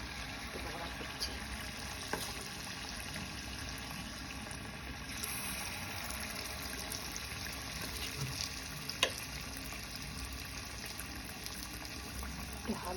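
Soaked semolina (suji) bora fritters frying in oil, a steady soft sizzle running throughout at low level with occasional small clicks and taps.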